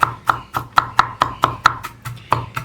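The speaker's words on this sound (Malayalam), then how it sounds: "കത്തി ഉപയോഗിച്ച് ഇതുപോലെ കൊത്തി അരിഞ്ഞെടുക്കുന്നതാണ്" Ginger being minced on a board with a large knife, a steady series of about eleven sharp, close chopping knocks at an even, brisk rhythm, with no talk.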